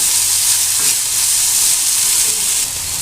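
Okra frying in a pan while being stirred, heard as a loud, dense, continuous hiss and sizzle up close with no talking.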